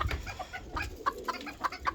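Chickens and a rooster cluck in short, irregular bursts, several birds close by and fairly loud, with no talk over them.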